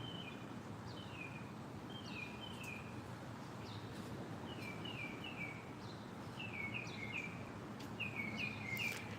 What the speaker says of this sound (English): You guys hear the bird?